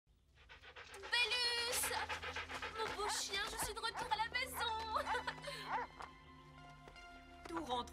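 A cartoon dog in an animated Cinderella film, French dub, pants rapidly and excitedly with a few small yips, steady and close, under voices and background music.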